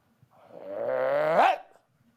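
One drawn-out, dog-like yelp or bark rises in pitch at its end, heard alone and fairly clear with quiet on either side.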